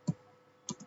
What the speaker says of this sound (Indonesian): kita ketikkan password